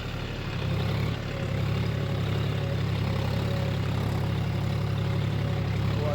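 A John Deere 5050 D 4x4 tractor engine runs steadily with a deep, continuous low drone, briefly dipping near the start before settling into an even rumble; close and loud, no talking.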